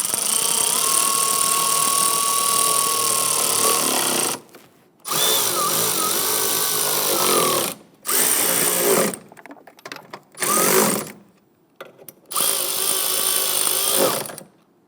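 Power tool tightening ignition coil bolts on a 2011-2021 Jeep Grand Cherokee 3.6L V6, heard as several close, loud bursts of whirring motor with short pauses between, without any talk.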